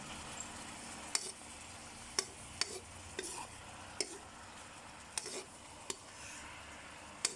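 Meatballs being stir-fried with seafood dipping sauce in a pan, a steady soft sizzle with repeated sharp scrapes and taps of a utensil against the pan at irregular intervals, close up and with no talking.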